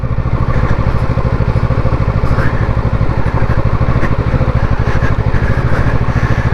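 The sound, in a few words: Kawasaki motorcycle climbing mountain road in first gear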